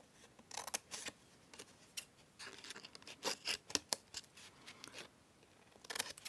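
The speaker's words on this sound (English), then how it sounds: "Cut this corner bit out here." Scissors snip a corner from paper for a journal pocket, a run of sharp close cuts clustered in quick bursts, with no voice over them.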